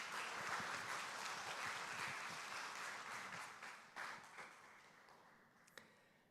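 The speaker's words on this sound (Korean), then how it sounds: "우리 감사님 나오실 때 우리 박수로 환영하겠습니다." A church congregation claps in welcome for a visiting preacher, a steady wash of applause heard at a distance that gradually thins and fades out, ending with a few scattered claps.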